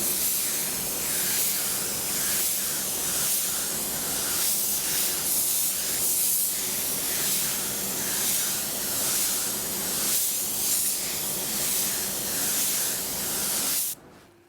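A spray gun lays a wet coat of coating onto a car surface, giving a loud, steady, continuous hiss that runs unbroken for over thirteen seconds before cutting off abruptly.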